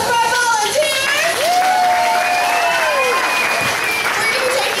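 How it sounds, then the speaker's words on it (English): Applause from an audience thanking volunteers after a staged Pearl Harbor reenactment scene at Disney World, steady dense clapping throughout with whistling tones and crowd noise mixed in. "How about a round of applause for our volunteers?"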